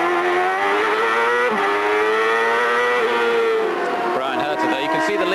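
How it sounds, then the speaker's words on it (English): A CART race car at Laguna Seca in 1998 screams loudly and close, its engine working hard down through the gears with sharp pitch drops at each shift, then pulling steadily again under constant high revs. "Listen to the engine working hard down through the gears here"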